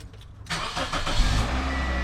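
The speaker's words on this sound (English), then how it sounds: "I'm going to start up the engine" A 2005 Toyota Corolla engine cranks briefly and catches, then settles into a steady, close idle that continues to the end.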